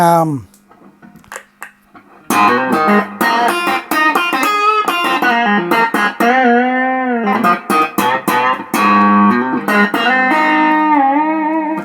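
Electric guitar played through a Roland Cube 40 amp with the volume turned up for heavy overdrive rings out in sustained distorted notes and chords, loud and close after a short quiet opening.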